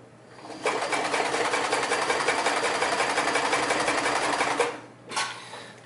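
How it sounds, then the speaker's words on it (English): A Kenmore 158 series sewing machine with built-in gear reduction stitches through light leather in a loud, steady, close run of rapid mechanical clatter that stops abruptly, followed by a brief short burst. "I am going to bury the needle because I want the machine to have the chance to make one full rotation before the needle has to hit that leather again."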